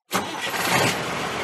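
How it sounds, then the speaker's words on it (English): A battered old truck roars into life while driving and sliding over huge sandhills on the Birdsville Track: an abrupt, loud engine onset followed by a steady, rough roar with no voices. "And Tom Cruise in his battered old truck, roaring and sliding over humongous sandhills"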